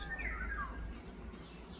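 A large black crow gives a brief harsh mobbing alarm call, faint and distant over low outdoor rumble, a single descending cry early on and then fading.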